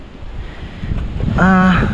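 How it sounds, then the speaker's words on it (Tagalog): Strong wind roars and buffets the microphone steadily in a garden of radish plants, with a brief voice rising near the end. "Lakas ng hangin, nababali po kasi malalaki na yung dahon."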